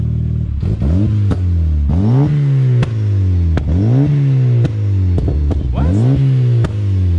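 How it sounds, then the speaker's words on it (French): A 300-horsepower turbocharged Volkswagen Corrado engine revs repeatedly while stationary in sharp rising bursts, each ending with crackling pops and bangs, loud and close. "Tu peux nous faire un petit pop and bang à l'arrêt ou pas?"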